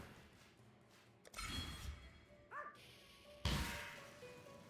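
A dog in the game Path of Exile gives a couple of short barks or yips, moderately near over a quiet game background, with a louder thump-like burst near the end.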